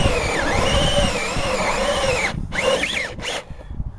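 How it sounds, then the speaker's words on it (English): Power drill boring through house siding, a loud whining spin that rises and falls, then stops and restarts in two short bursts before cutting out. "Now when you're ready to drill it, goes the regular"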